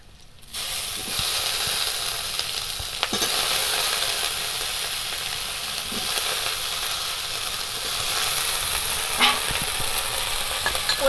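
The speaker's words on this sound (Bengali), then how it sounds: "পেঁয়াজ কাঁচা লঙ্কা ভালো করে ভাজা হয়ে গেছে এবার এর মধ্যে আমি এখানে আলু বেগুনগুলো দিয়ে দেবো" Potatoes and eggplant frying in oil with onion and green chilli give a loud, hissing sizzle that jumps up at the start and holds steady throughout, with occasional stirring knocks and no talking.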